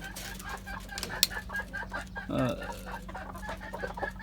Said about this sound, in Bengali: নিচে রয়েছে দেশি মুরগিগুলা